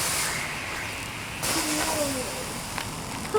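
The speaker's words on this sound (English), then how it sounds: "Now this could make a bunch of steam." Water poured onto burning thermite sets off a broad steady hiss of steam, loud and rough throughout, with a sharper burst partway through and faint voices in the background.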